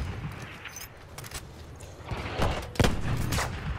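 Battlefield 1 gunfire, a series of scattered shots and bursts at varying distances, with a louder close crack near the end amid ongoing battlefield noise.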